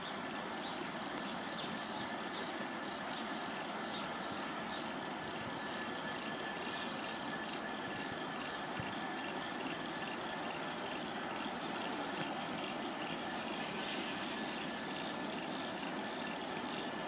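Train with locomotive GML 10 in the lead rolling slowly through Roxburgh Park station in Melbourne, a steady broadband rumble and wheel hum holding at a moderate distance for the whole stretch, with no talking.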